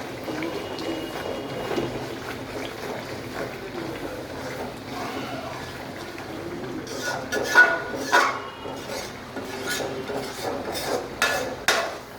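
A spoon or spatula stirs egg curry (dim bhuna) in a pan, scraping and rubbing against the metal. The scraping is soft and intermittent at first and turns into louder, more frequent strokes toward the end.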